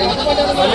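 Goats bleat at a large sheep and goat market in Telangana, a brief close, loud, wavering call amid general market noise.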